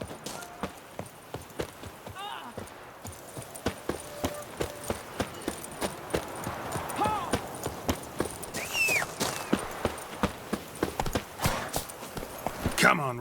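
Hooves of the horse Roach clip-clop rhythmically at a steady gallop in The Witcher 3: Blood and Wine, loud and close throughout, with a brief neigh and game sounds around it.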